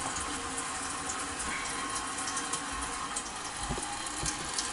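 Water runs steadily down a kitchen sink drain just cleared with a 3/8-inch by 50-foot drain auger, a continuous close rushing and trickling wash with no talk over it.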